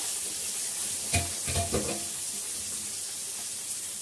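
Ridge gourd and pointed gourd curry fries in a pan with a steady, soft sizzling hiss, broken by a few brief stirring scrapes near the middle; no one speaks.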